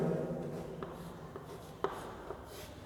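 A pen or marker writes out a control system equation, giving faint, scattered scratches and taps over a steady low room hum, with no talking.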